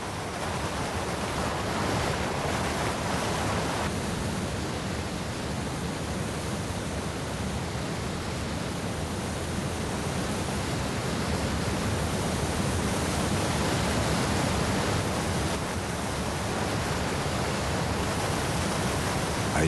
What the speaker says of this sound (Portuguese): transformando-se em cachoeiras e córregos torrenciais.